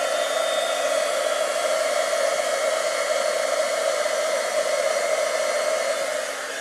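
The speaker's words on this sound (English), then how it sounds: "When you're going and using your heat gun, it actually turns to a liquid" A heat gun blows steadily and loudly, melting embossing powder on a stamped card; a continuous even roar with no talking, tapering slightly at the very end.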